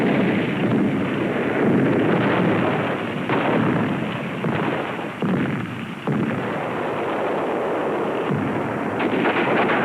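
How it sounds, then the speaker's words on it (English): Iwo Jima battle: a mortar barrage with gunfire, a continuous loud roar of blasts and rumbling fire, rough and wind-buffeted, with no voices over it. "A mortar barrage searches out hidden machine gun nests."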